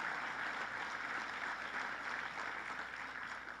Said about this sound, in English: So let's give them a big round of applause for all they've done.